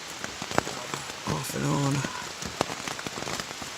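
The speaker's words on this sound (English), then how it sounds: "As you can probably hear, it is raining. And raining pretty hard." Hard rain falls steadily on the Appalachian Trail, a dense hiss of drops and patter close by, while a person speaks briefly over it.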